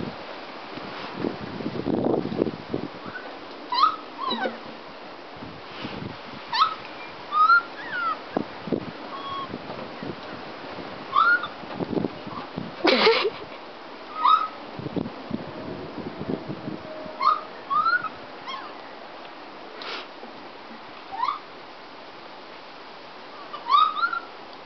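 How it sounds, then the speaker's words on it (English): Soft high mewing calls of lemurs, like kittens crying, repeat irregularly over an outdoor background with occasional faint voices and rustling. "So, lemurs sound like kittens."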